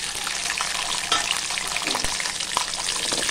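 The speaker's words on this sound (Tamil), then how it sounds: "இப்போ சின்ன வெங்காயத்தை இப்போ வதக்கி விட்டுடலாங்க." Whole peeled small shallots fry in oil in a pan for a Tamil garlic tamarind curry, giving a steady close sizzle with occasional stirring scrapes and clicks; no voices.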